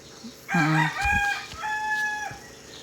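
A rooster crows loudly and close, a single drawn-out call with a rising start and sustained wavering tail, heard alone.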